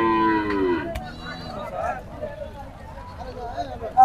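Native deshi cattle moo loudly at a rain-soaked village cattle market, with one drawn-out low near the start, while people talk over the crowd noise.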